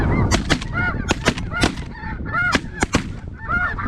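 Snow geese honking in flight over a hunting spread in Alberta: a dense, close flock calls in rapid overlapping honks throughout, punctuated by sharp bursts.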